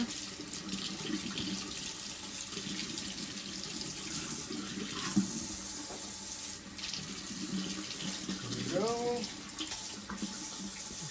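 Hot tap water runs steadily into a sink, a continuous splashing rush with a brief spoken remark partway through.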